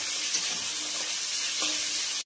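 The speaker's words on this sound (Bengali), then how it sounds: "ভালো করে লাল করে ভেজে নেব।" Green chillies and potato fry in hot oil in a kadai with bay leaf, a continuous bright sizzle with faint stirring clicks, steady and close, no voices.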